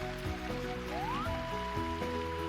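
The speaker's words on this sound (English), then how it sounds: "Okay, so a little bit of rain." Light rain falling on a golf course in the Mario Golf video game, a steady soft patter under game music with short tonal jingles, no talking.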